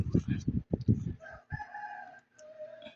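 A rooster crows in the background, a sustained tonal call, while speech-like sounds and chicken clucks come first, fairly faint and somewhat distant.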